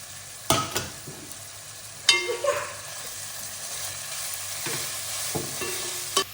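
Mint and coriander sautéing in a pan with a low, steady sizzle, broken by a few sharp clanks and scrapes of stirring that are clear and close. No voices are heard.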